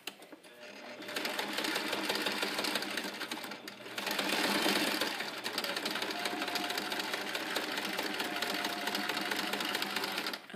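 A sewing machine stitches back and forth in a zigzag over a loop on a bass bow quiver, a rapid, continuous mechanical whir with brief pauses and shifts as the stitching changes direction, close and clear.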